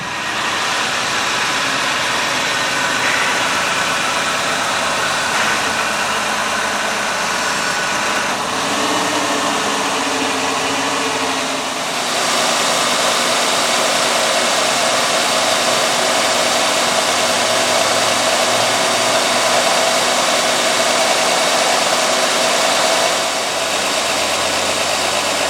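A 1986 Oldsmobile Ninety Eight Regency runs steadily as it is pulled out into a driveway, a loud continuous engine drone with brief shifts in tone partway through and no voices.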